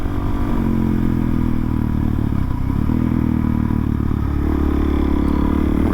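A supermoto motorcycle engine drones steadily up close, its pitch shifting slightly as the rider changes speed, with wind rumble throughout and no talking.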